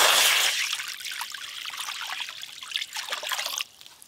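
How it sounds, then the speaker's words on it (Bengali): Water poured over boiled eggs in a pot to cool them, an uneven splashing trickle with a brief louder gush at the start, close by and alone. "জল দিয়ে ভালো করে ডিমগুলো একটু ঠান্ডা করে নেব"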